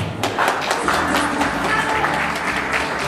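Loud, continuous audience applause fills the hall at an awards ceremony, a dense wash of many hands clapping steadily with a few sharper claps standing out.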